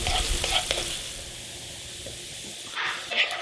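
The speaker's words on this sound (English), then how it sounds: "Now when you're frying something like onions or anything else that can burn, you want to stir it pretty often" Onions frying in a pan and being stirred often, a steady hissing sizzle with bursts of louder spitting as the spoon moves them, close by.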